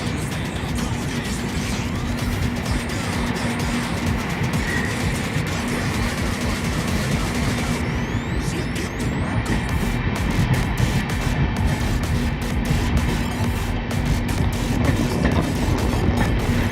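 Howrah Mumbai Mail express heard from inside an AC 3-tier coach at speed, a steady loud rumble of wheels on rails with rhythmic clatter throughout, no talk.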